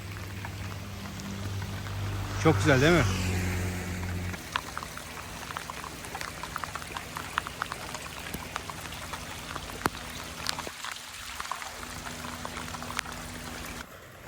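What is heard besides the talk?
rain falling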